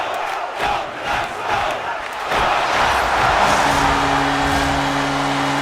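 A hockey arena crowd in the video game NHL 24 roars and cheers in a continuous wash of noise, swelling louder partway through as a sustained tone joins in.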